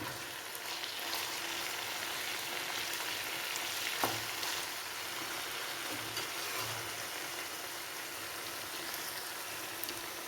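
Chicken pieces and curry leaves deep-frying in oil in a pan for chicken pickle, a steady close sizzle with dense crackle and occasional stirring scrapes throughout, no voices.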